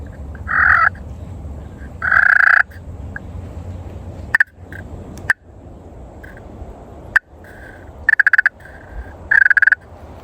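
A plastic turkey call worked by hand in the open, giving short bursts of purring and sharp clucks that repeat several times near and clear over a low outdoor rumble, with a few clicks in between.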